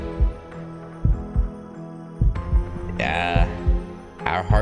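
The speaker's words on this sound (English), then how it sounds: "Our heartbeats kinda going crazy, huh?" Heartbeat sound effect from the Tsukihime visual novel, steady deep thumps repeating about once per second, loud and close over a low humming music bed, with a higher synth swell partway through.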